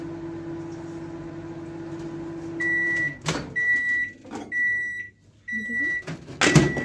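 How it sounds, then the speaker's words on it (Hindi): A Panasonic microwave oven hums steadily while softening butter, then its door clunks and a run of four evenly spaced beeps sounds close by, followed by a final thump. "तो बटर को हम 1 मिनट माइक्रो पावर कर लेते हैं"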